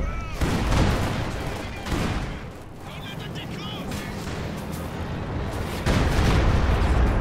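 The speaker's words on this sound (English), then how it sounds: "calling in artillery support" Artillery barrage in the WWII strategy game Company of Heroes 2, with dense overlapping booms and gunfire rumbling steadily throughout, heaviest at the start and end, under a busy battle mix.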